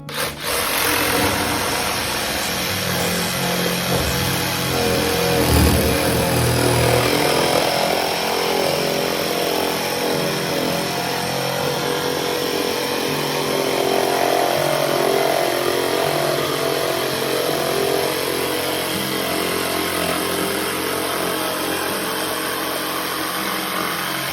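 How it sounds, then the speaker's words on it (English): A small jigsaw saws steadily through a wooden panel for a rabbit nesting box, its loud, close buzzing motor running continuously with slight changes in pitch as the blade cuts. "We're just gonna use a little jigsaw here"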